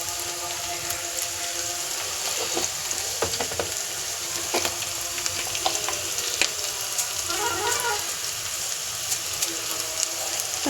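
Bengali five-spice tempering (panch phoron) hits hot oil over lightly browned onions for a pumpkin bori dish, giving a steady close sizzle with scattered pops and crackles, alone without talk.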